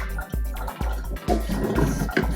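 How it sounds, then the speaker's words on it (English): Water sloshes and splashes in uneven bursts as an aquarium filter is rinsed out, with several sharp pours and dumps close by over a steady watery wash. "Splash some water around in here."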